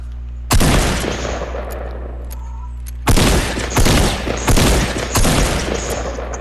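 Gunfire in a video game hide-and-seek match on a playground: one loud burst of shots, then after a quiet stretch four more close, heavy volleys in quick succession over a steady low hum.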